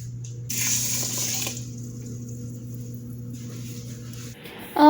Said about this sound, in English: Now I'm just going to add water